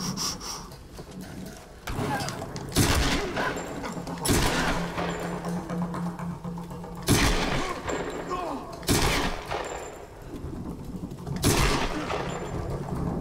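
Rapid bursts of gunfire in the Tomb Raider video game, several sharp volleys spread across the clip over a steady game-sound background.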